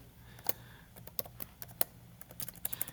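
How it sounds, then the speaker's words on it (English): Keys on a computer keyboard are tapped in quick irregular bursts while an equation is typed, close and fairly quiet clicks with short pauses between them. "So what I'm going to do, type in the equation."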